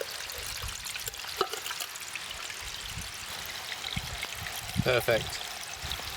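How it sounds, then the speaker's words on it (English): Water trickles and pours steadily as a billy can is filled from a small, clear creek at a wild camp in Galloway, with brief clinks and splashes near the end and a short spoken word over the flow. "I'm just going to go fill up my billy can with some water from the little creek behind"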